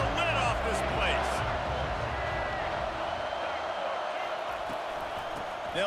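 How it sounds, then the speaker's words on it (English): A stadium crowd roars at a Michigan vs. Notre Dame football game on third down, a dense, loud, continuous wall of cheering that holds throughout with commentary talking over it. "Third down, and this crowd is tearing the lid off this place."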